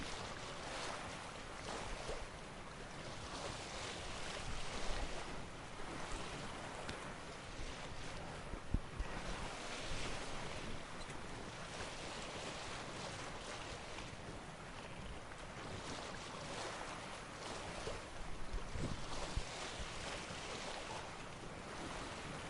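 Boat cutting across ocean waves in The Witcher 3, with steady rushing water and wind noise, a continuous wash of surf sound alone without talk.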